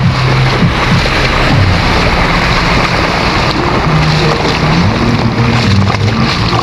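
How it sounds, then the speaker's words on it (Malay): Fast-flowing floodwater during a flood at Parit Sulong, a loud continuous rush and churn of water mixed with wind buffeting the microphone and faint engine tones, steady throughout. "Air dia lajunya, ya Allah."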